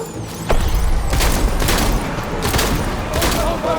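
Gunfire in a WW2 Eastern Front battle in the video game Death Stranding, with loud bursts and volleys of shots and booming blasts layered over a constant low rumble of combat.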